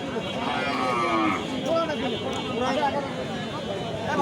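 Several cows moo in drawn-out, wavering calls over a busy crowd murmur at a cattle market, some near and some farther off.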